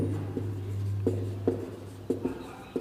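Marker or chalk writing coordinates on a classroom board, a series of short scratchy strokes and taps in uneven rhythm, close and fairly faint over a low steady hum.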